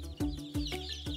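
Small ornamental bantam hens from a hobby poultry breeder's flock cluck close by in three or four short, rhythmic bursts, with no voices over them.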